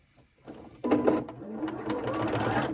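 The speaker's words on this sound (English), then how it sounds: "then we're going to start sewing" Sewing machine starting a seam on an extra-large fabric scrunchie: a few soft clicks, then a sudden close, steady motor whir with rapid needle patter that keeps running to the end.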